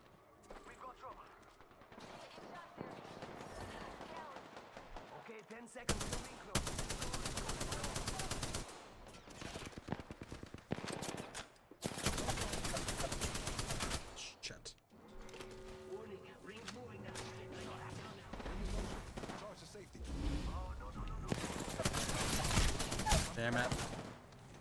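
Automatic gunfire rattles through an Apex Legends firefight in long, loud bursts that come and go over about twenty seconds, with players talking between and over the volleys.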